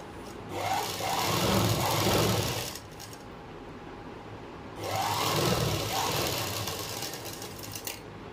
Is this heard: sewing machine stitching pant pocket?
yes